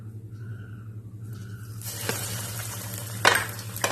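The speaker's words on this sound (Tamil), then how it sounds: "இப்போ பொரிச்சு எடுத்துடலாம்." Bread-crumb coated curd rice fritters dropped into medium-hot oil, a quiet start giving way to a dense bright sizzle, with a couple of sharp utensil clinks on top; no talking.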